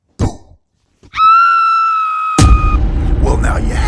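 A skull's scream rings out as a sustained, piercing tonal wail with stacked harmonics, holding steady for about a second and a half before a loud burst of noise cuts in and lingers through the end.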